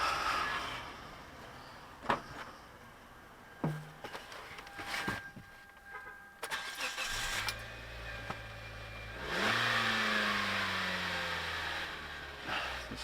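A repaired Kia car engine, fixed after a P0300 misfire, cranks and settles into a steady idle, then revs up briefly with a rising drone. Scattered clicks and handling noises come before the start.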